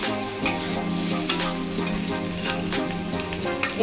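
A pan of soybean chunks with salt, turmeric and sugar sizzles steadily up close while a spoon stirs them, with repeated scraping knocks against the pan at irregular intervals and no talking.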